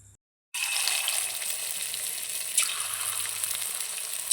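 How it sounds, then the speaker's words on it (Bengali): Chicken pakoras marinated with egg deep-frying in hot oil, a loud steady sizzle that bursts in after a brief silence and continues evenly, with a few small pops and no speech. "পকোড়াগুলো ভেজে নেব এক এক করে।"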